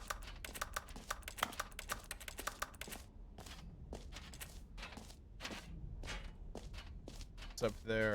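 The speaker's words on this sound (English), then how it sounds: "And I'm typing with my bucket." Rapid keyboard typing in The Stanley Parable: Ultra Deluxe, with dense clustered keystroke clicks in bursts followed by sparser taps, fairly close and alone without talk.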